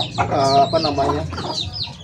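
Backyard chickens kept alongside ducks and rabbits give a short run of close, clear clucks and squawks, several calls overlapping in about two seconds.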